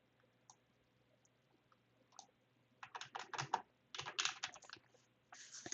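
Keys clack on a computer keyboard in irregular bursts, a few isolated taps at first, then rapid clusters of close, crisp clicks with short pauses between, in a quiet room with no speech.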